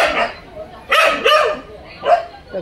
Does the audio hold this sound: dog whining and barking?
yes